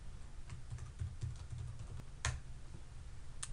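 Soft, steady keystrokes on a computer keyboard patter continuously at close range, with a couple of sharper key clicks standing out, quiet and without voices.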